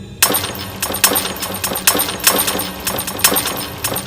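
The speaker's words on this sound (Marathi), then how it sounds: "छपराची उरली सुरली कौलेही तडतड फुटली." Repeated sharp cracking and shattering bursts, roughly every half second, like brittle tiles breaking one after another, loud and close with no talking.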